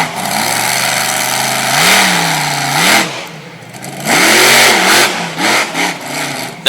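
A monster truck engine revs hard during a wheelie competition at a Sarver, Pennsylvania event, loud and close, with repeated rising and falling throttle surges and a brief dip in the middle.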